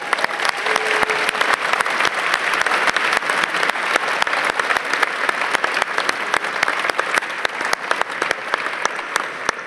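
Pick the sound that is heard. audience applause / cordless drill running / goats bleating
audience applause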